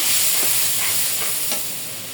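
Spice paste with turmeric powder and salt being stir-fried in a pan, a steady broadband sizzle with faint scraping stirs, fairly close and fading slightly toward the end, no voices.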